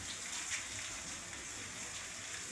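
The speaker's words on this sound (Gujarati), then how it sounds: "જો આવો કાક વરસાદ વરસે છે." Heavy monsoon rain pours down around a rooftop terrace in rural Gujarat, a steady, even hiss at moderate distance with no voices.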